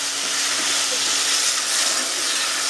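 Potatoes and vegetable stems fry in a pan, giving a steady, loud, unbroken hiss of oil that stays even from start to finish.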